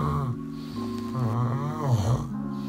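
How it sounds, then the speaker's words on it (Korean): A man snores steadily in close-up, drawing several long, rasping breaths with a low, droning rattle and occasional higher wheezy tones, loud and alone with no talk. "남편 코골이가 4달 만에 이렇게 변했습니다."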